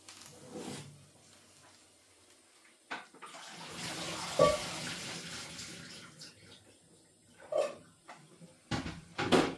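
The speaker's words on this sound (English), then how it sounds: "I'm going to use this colander to drain the boiling water off the potatoes." Boiling water from cooked potatoes pours through a colander into a sink, a gushing splash with clanks of the pot and metal bowl, close in a quiet kitchen.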